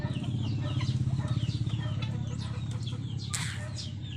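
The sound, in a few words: bird calls, likely chicken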